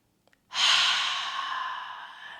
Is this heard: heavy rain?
no